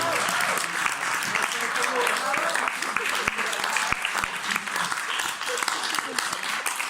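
Audience applause at a school performance, steady clapping sustained throughout with a voice or two faintly mixed in.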